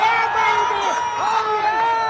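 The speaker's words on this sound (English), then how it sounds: "The crowd, yeah, you're hearing in the background, they're getting in on the act, they're having a fun time." Spectators at a Mzansi Super League T20 cricket match in Cape Town fill the stadium with steady, tonal chanting and cheering, a lively continuous wash of crowd voices from a distance.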